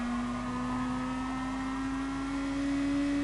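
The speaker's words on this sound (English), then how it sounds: "Just listen to this engine around here." A high-revving DTM racing car engine in the video game GT Sport, at the Catalunya circuit, drones steadily with a sustained tonal whine, loud and continuous throughout, with no talking.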